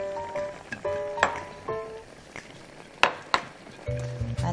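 Garlic sautéing in a little oil for a salmon sauce makes a soft, steady sizzle, broken by clinks and scrapes of a spoon against the pan.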